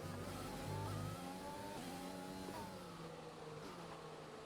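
A Formula 1 race car engine in the F1 2020 video game, with the Australia race finishing, holds a steady high whine with shifting gear pitches and faint tire noise, fairly quiet and continuous without talk.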